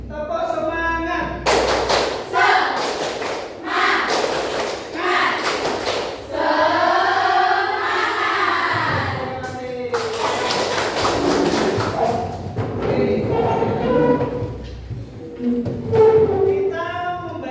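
Students repeat the tepuk semangat cheer in a morning class, clapping in rhythmic, sharp bursts that alternate with a loud leader's voice and group chanting.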